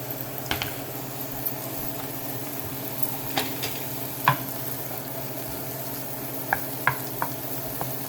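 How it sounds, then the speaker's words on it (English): Shrimp in a fresh chopped garlic marinade frying in a pan over medium heat, a quiet steady sizzle with occasional sharp pops and crackles. "Right now we're just going to brown our shrimp."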